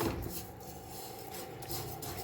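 A spoon stirring roasted sesame, flax seeds, fennel and ajwain in a nonstick pan over low heat makes a steady, close, continuous rasping scrape with a soft gritty rustle, no voices.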